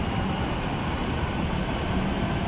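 An MRT train rushes past in Cubao, Quezon City, as a steady, loud, broadband roar with no distinct beats, filling the scene without any voices over it.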